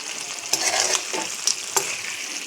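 Chicken curry with bean seeds cooks in a pot, giving a soft continuous sizzle and bubbling with a few sharp clinks and scrapes of stirring, close by and with no talking.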